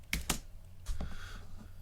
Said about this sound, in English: My typing has gone absolutely to shit.